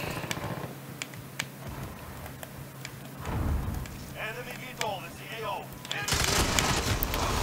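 Gunfire in a Call of Duty Modern Warfare match, sharp distant shots popping intermittently beneath ongoing game noise and a burst of louder fire near the end, while players chat in Icelandic.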